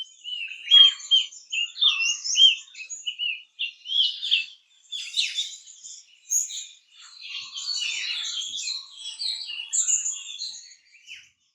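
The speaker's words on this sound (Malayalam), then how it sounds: "വെർണൽ ഹാങ്ങിങ് പാരറ്റ്" A Vernal hanging parrot in the hills of Munnar in the Western Ghats gives a long run of thin, high chirps and twittering notes, clear and fairly close against near silence.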